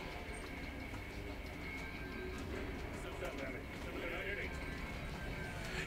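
Sheep bleats from the cartoon car-combat video game Cel Damage, heard amid a steady dense game soundscape with rumbling, train-like noise underneath; brief voices occur in the mix.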